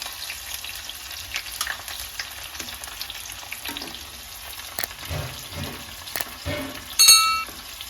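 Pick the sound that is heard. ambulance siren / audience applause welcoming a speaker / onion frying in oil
onion frying in oil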